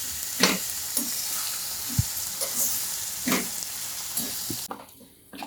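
Tempered vegetables going into a pot of sooji moong dal khichdi, a soft continuous sizzle with several dull stirring knocks and scrapes, fairly quiet, ending in near silence.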